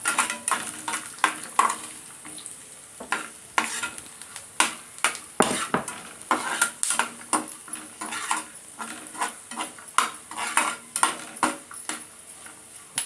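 Chopped red chillies and peanuts roast in a pan, with constant rhythmic scraping and clinking of a spoon against metal over a soft sizzle. Close and busy throughout, with no voice.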